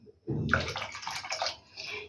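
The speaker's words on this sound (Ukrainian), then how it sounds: "виливаю сюди воду" Water pours into a pot in a steady splashing stream for under two seconds, close by, briefly easing before pouring again, while mixing a chocolate cake batter.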